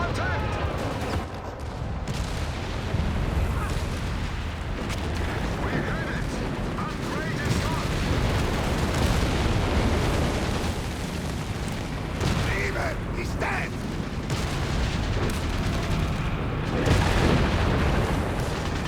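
Artillery and mortar barrage explosions in Company of Heroes 3, a dense, continuous rumble of booms and gunfire through a loud battle, with a voice talking over it.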